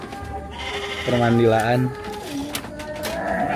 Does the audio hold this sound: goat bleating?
yes